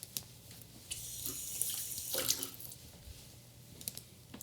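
Tap water running from a faucet to wet hands at a kitchen sink while making focaccia, a soft steady hiss with a few splashy swells as hands move through the stream, fairly quiet.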